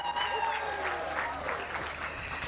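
Audience applause for a guest at a live charity celebration of givers, a steady wash of clapping with some crowd voices mixed in, fairly even in level throughout.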